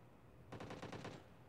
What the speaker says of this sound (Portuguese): estamos trocando tiro com alguém